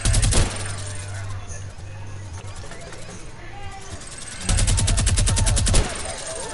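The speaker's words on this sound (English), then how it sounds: "Sorry, I was shooting a tree down" Rapid automatic gunfire in a PS4 shooter video game, a burst at the start and another dense volley near the end, with steady low game rumble and tagged speech between the bursts.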